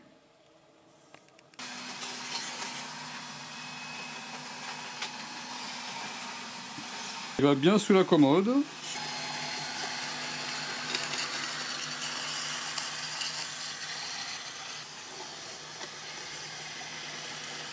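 Narwal Freo X Plus robot vacuum cleaner running indoors, a steady moderate whirring hum that starts suddenly and continues throughout, with a brief burst of wavering tones midway; a person speaks briefly over it.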